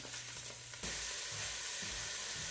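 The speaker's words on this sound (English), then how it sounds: "in this pan, I am browning the ground turkey. I have added, and I'm browning it in some hot olive oil." Ground turkey breast browning in hot olive oil in a pan gives off a steady, close sizzle that swells into a louder, denser frying hiss partway through, with no talking.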